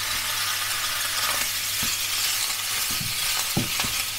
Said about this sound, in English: I'm going to turn it down to a medium heat and fry my chicken off for about 5 minutes or until browned